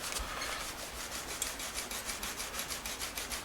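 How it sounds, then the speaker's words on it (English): A microfiber cloth rubs the pickups of an Epiphone Les Paul Custom Pro guitar in quick, rhythmic back-and-forth strokes, soft and close with a dry, brushing hiss. "So let me give the pickups a little rub with a microfiber cloth."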